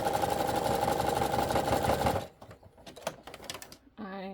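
A sewing machine backstitches elastic on a fabric steering wheel cover with a steady, close whirring clatter for about two seconds, then stops, followed by handling noises and a brief voice.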